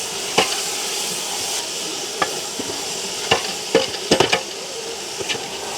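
Ingredients sizzling steadily in a pot during cooking for a village-style quail biryani, with occasional sharp scrapes and clinks as a spoon stirs them.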